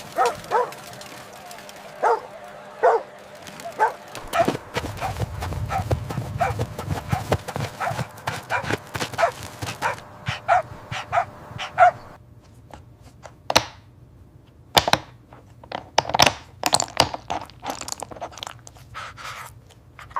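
Puppy barks over and over, sharp yaps and yips scattered across the whole stretch, close and loud, mixed with crunching and chewing noises.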